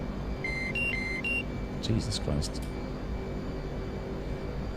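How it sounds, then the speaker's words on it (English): A warning tone beeps in a DCS F/A-18C flight simulator cockpit, a few short high-pitched beeps in a quick pattern over steady cockpit hum, followed by a brief spoken exclamation. "That beeping."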